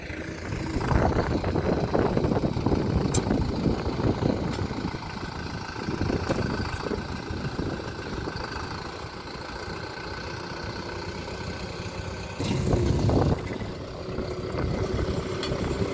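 A Deutz Fahr 4090E tractor fills a trench about one and a half to two metres deep, its engine rumbling steadily and close throughout, swelling under load in a couple of heavier bursts.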